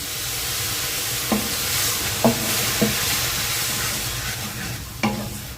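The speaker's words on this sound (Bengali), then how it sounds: "দিয়ে একটু ভালোভাবে নাড়াচাড়া করে নিচ্ছি।" Cumin and coriander powder stirred in a frying pan with a splash of water, giving a steady sizzle and bubbling hiss with a few soft utensil scrapes against the pan.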